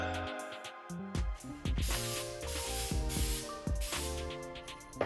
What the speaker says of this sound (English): And my daughter was thrilled as I sprayed it around the room